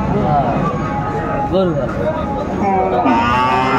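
Young Sahiwal bull calf at a crowded cattle market in Madaripur, with short moos rising through busy background chatter as people talk close by.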